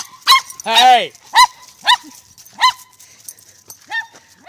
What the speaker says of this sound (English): enough barking